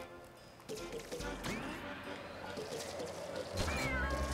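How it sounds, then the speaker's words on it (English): A cat meows in the video game LittleBigPlanet 3, several clear, drawn-out cries rising and falling over game background sound, loud and close. "It's a cat."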